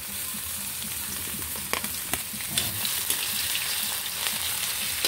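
Sliced ginger sautéing in a pan for golden snail in coconut milk, a steady sizzling fry with scattered crackles and stirring clicks, close and alone with no talk.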